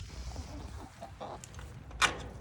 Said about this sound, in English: Oh my goodness, chickens, you're so excited.